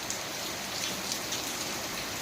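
Steady rain falls in a village during the first rain of the season, an even, close hiss of drops on surfaces with no talk and no other sounds standing out.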